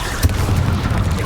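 A Confringo blasting spell detonates in Hogwarts Legacy, a single short, loud boom with a rumbling low tail.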